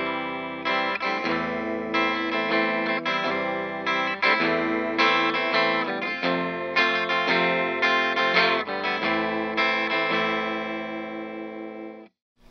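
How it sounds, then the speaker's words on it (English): A clean electric guitar with a single-coil pickup, played through the clean channel of a Vox AC30/4 amp, plays a steady run of chords and single notes, bright and close, with a light shimmer of effect and no voices. "That's what the clean channel sounds like."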